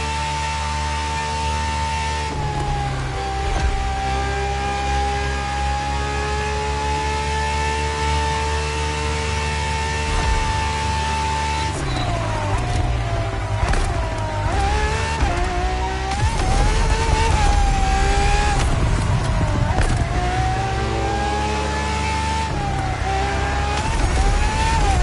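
A Ferrari FXX K supercar engine revs loudly and up close, a sustained harmonic roar that climbs and dips through repeated throttle blips and gear changes.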